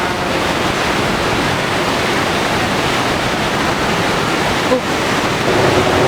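Niagara Falls pours down in a steady, dense roar of falling water, continuous and loud throughout with no pauses.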